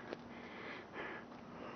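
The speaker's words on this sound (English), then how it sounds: "even Sophia's sniffing it" Someone close by sniffs quickly in several short bursts, quiet breathy snuffles spaced unevenly over a low background hum, beside a food truck carrying two 100 lb propane tanks.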